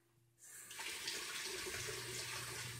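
A kitchen tap opens and runs steadily to fill a cup with cold water, a close, constant hissing splash that starts abruptly and continues without pause.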